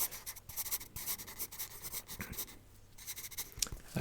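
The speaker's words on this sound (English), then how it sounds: "it's a bit hard to write with the gloves sometimes" Pen scratching across paper, written by hand with gloved fingers during an eye exam, a run of soft, close, dry strokes and scrapes with small pauses between them.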